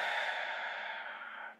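A long, steady deep breath drawn in during a guided breathing meditation, close and soft, held evenly for over a second before cutting off, with no talking over it.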